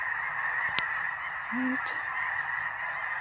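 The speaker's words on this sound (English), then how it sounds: "All the white birds. Snow geese." Snow geese honking at a wildlife refuge, a single short honk heard faintly at a distance over a steady hum, with a brief spoken word.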